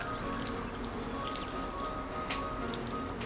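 Water poured into self-heating hot pot ingredients, a quiet continuous trickle with small splashes and drips, close and soft, without speech.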